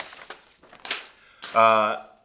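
A paper record sleeve for a vinyl album crinkles and rustles in a few close, short bursts, followed by a longer scraping slide.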